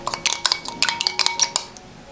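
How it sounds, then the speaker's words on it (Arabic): Quinoa, vegetables and sauce being mixed in a bowl for a vegan protein dish, giving a quick run of close utensil clinks and scrapes against the bowl, irregular and fairly loud, with no voices. "غادي نخلط هاد العناصر كامله"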